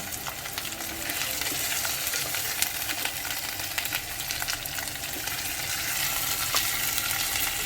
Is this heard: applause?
no